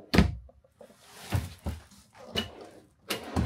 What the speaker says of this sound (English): We've got some drawers.